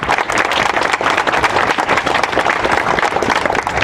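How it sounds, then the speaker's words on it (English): Sustained, dense applause from an audience for a campaign organizer at an event, steady and loud throughout with no voices over it. "let's please give her another applause"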